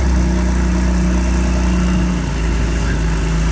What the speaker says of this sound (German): Hinten läuft schon wieder Porsche.